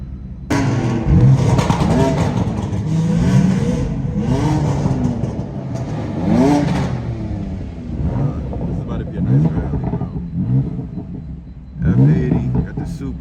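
A BMW M4 at an exotic car meet revs repeatedly, rising engine sweeps with rumbling exhaust and crackling burbles between pulls, loud and nearby with people talking over it.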